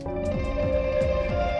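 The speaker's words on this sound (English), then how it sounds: "Oh, some bad guitar playing." Rough early song-demo guitar playing, a loose strummed or picked part with repeating low rhythmic figures under a sustained tone, steady and fairly loud throughout with no talking.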